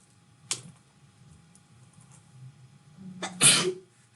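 A single sneeze bursts out loudly in a classroom near the end, preceded by a fainter sharp sound early on, over a low murmur of room noise.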